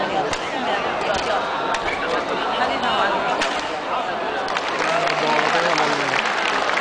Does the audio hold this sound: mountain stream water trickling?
no